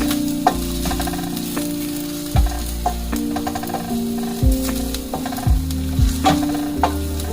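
Garlic and ginger sizzle steadily in hot oil for a sofrito, with a spoon scraping and knocking against the pan every second or so, close and fairly loud, no voices.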